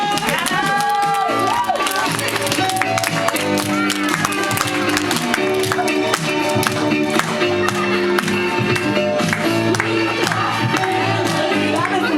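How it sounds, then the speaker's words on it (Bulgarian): An audience claps and cheers for a family at an event, a dense, continuous wash of applause lasting twelve seconds, loud and close, with voices shouting amid the clapping. "аплодисменти за тях!"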